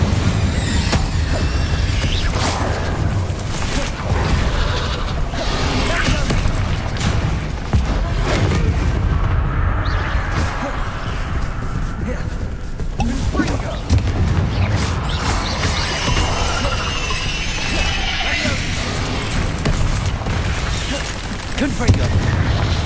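Incendio fire spells cast in the Hogwarts Legacy video game during a chaotic fight, continuous loud whooshing bursts and booming impacts mixed with other spell blasts, a voice talking over the din.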